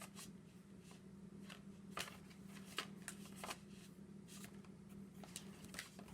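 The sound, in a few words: searching through a deck of game cards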